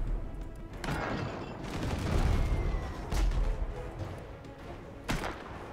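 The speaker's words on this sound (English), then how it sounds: "Another salvo of cannons should actually take them down." Salvo of ship cannons firing in the naval video game Abandon Ship: repeated heavy booming blasts, several sharp bursts spaced a second or two apart over a continuous rumbling battle din, fairly loud.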